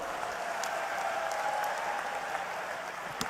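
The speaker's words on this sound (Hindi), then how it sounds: "जोरदार ताली बजा दें।" Applause from a rally audience in Harda claps steadily and evenly for about three seconds, a dense continuous patter heard at moderate distance with no voices over it.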